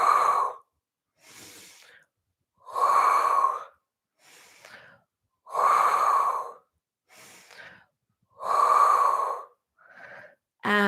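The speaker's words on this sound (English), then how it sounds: "so you exhale and inhale. Exhale and inhale." Slow, deep breaths during a Pilates back extension, with loud sighing exhales alternating with softer, shorter inhales in a steady rhythm, close up with no talking.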